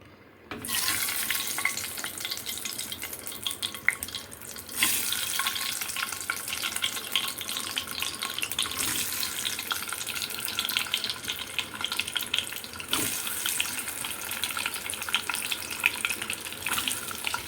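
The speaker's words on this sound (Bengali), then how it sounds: "আমাকে প্রথম অবস্থাতে ডিমটা হালকা করে একটু ভেজে নিতে হবে" Eggs rubbed with salt and turmeric frying lightly in hot oil for a spiced egg curry, a steady loud crackling hiss running almost the whole time with brief dips and a few scraping touches.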